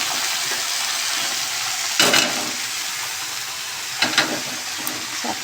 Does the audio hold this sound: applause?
no